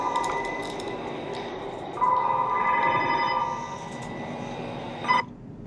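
A telephone rings in a horror video game, a thin electronic trill that comes in and holds for about two seconds before fading, set over a low, murky ambient hum.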